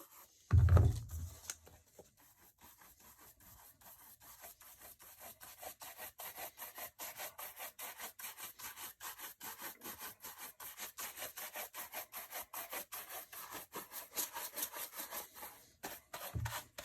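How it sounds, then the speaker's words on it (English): A shoe is buffed to remove excess polish with quick, rhythmic rubbing strokes that repeat steadily and close by for many seconds, preceded by a brief thump and with no talk. "Just buffing the excess off of it."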